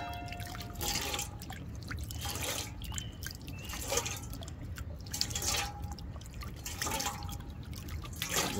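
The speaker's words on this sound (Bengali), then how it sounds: "এই দেখুন, এখানে আরও পানি দিয়ে দেবো আমি।" Water being poured into an egg yolk mixture prepared as feed for comet and koi fry, a steady close trickle with dripping and splashing throughout, no speech.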